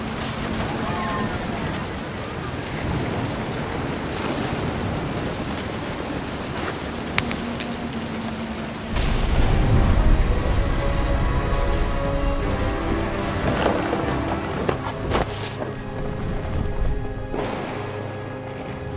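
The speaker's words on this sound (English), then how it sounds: "The thunder sounded much too close and full of angry power" Heavy rain and rolling thunder in the video game What Remains of Edith Finch, a steady loud downpour with a deep rumbling swell partway through, with music and voices faintly mixed in.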